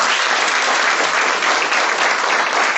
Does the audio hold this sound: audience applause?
yes